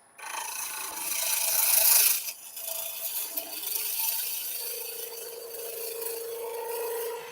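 A thread chaser cuts threads into wood turning on a lathe, making a steady close scraping rasp with a brief louder burst early on, then a continuous whirring cut with a faint tonal hum.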